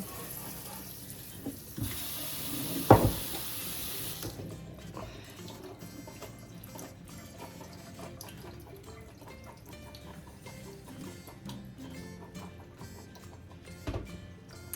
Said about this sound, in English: We're just going to rinse it just to clean it up a little bit.